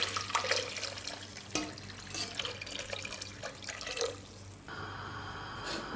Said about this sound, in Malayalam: ഇതിലേക്ക് ഞാൻ ബാക്കി 5 കപ്പ് വെള്ളം കൂടി ഒഴിച്ചു കൊടുക്കുന്നുണ്ട്